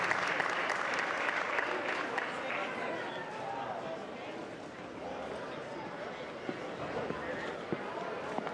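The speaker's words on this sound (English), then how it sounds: "How about another round of applause for our state champions, the McAllen Bulldogs" Applause rings out at a school board meeting for McAllen's state champion robotics team, a sustained roomful of clapping with cheering voices mixed in that gradually thins toward the end.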